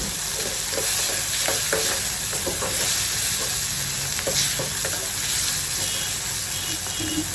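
Soaked chana dal frying in oil over a high gas flame as a tempering, a loud continuous sizzle and crackle with frequent clinks and scrapes of stirring, close up, with no talk.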